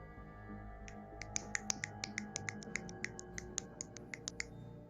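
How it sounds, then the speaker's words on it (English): Fingers snap in a rapid run of crisp, bright clicks over a faint steady hum, close and quiet, with no voices. "I'm going to snap my fingers and burn it."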